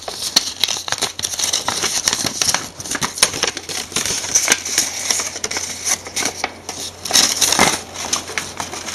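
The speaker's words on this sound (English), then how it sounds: "I fold along all the edges again." Paper being creased and folded along the edges of a pentagonal prism net, a near, continuous run of crinkling, crackling and soft tapping with irregular bursts, no talking.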